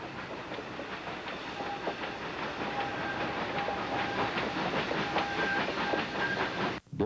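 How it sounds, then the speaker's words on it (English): An ET&WNC (Tweetsie) narrow-gauge train rolls through weeds entering Roan Mountain, a steady rumble with rhythmic clickety-clack of wheels and faint hissing, continuous and moderately loud, with no voices. "The train plows through the weeds as it enters Roan Mountain."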